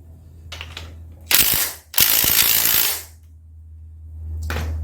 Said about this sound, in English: At the same time, I could probably torque this down a little bit further.